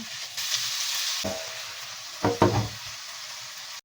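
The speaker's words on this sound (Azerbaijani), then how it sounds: "İlk öncə soğanları əlavə edirəm. Biraz qovrulsun, sonra ətini qoyacağım." Onions fry in a pan, giving a steady high sizzle close by, then a few louder stirring scrapes and clatters near the end, with no one talking.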